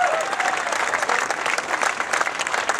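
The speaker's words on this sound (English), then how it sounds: "let's give a round of applause for Michel Fabrizio, Ducati Xerox team" A crowd applauds a World Superbike podium finisher, the third-place Ducati Xerox rider, at a 2008 race in the USA: loud, dense clapping that carries on steadily without a break.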